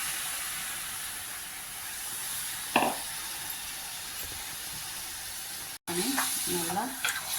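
Washed mutton meets a hot pan for a mutton kulambu, giving a steady background sizzle with a sharp clatter partway through and further stirring clinks and scraping near the end.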